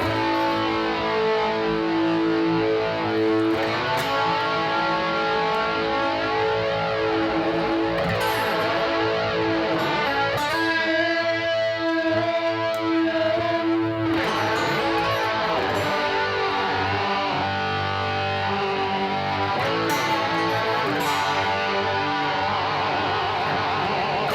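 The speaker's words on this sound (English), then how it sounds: "I love how you can get that crazy sweep, especially when you have a lot of distortion on." Heavily distorted electric guitar chords through a Line 6 MM4 modulation pedal, played continuously, with a swirling modulation effect sweeping up and down through the tone, loud and steady throughout.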